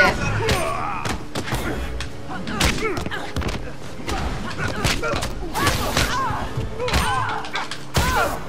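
Gunfire and impact thuds from the fighting game Injustice: Gods Among Us, with dense bursts of shots and heavy hits throughout. People talk excitedly over the game sounds.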